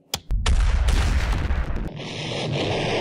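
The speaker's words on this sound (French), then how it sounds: "Donc Jason, en tant que mon nouveau second, armez les canons et détruisez Twilight." A loud cannon blast sound effect with a sharp initial crack, then a rolling roar that fades into a hissing, ringing tail.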